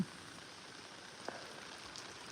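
Rainforest rain falls steadily, a soft, even patter on surfaces close by, with one faint knock partway through and no talking.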